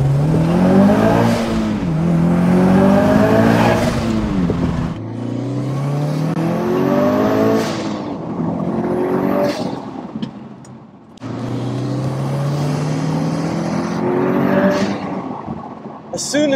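A JDM Subaru Impreza STI hatch with a turbocharged 2.1 stroker engine making 420 bhp revs hard through repeated rising gear pulls, a loud close engine roar with a brief lull near the middle, heard from inside alongside talk.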